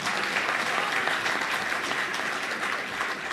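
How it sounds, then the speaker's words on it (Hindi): Loud, dense applause from a large audience at a Hindi poetry recital held at BHU, a steady wall of clapping that fills the whole stretch with only faint voices underneath. "बीएचयू वालों, एक बार जोरदार ताली अपने लिए बजाओ"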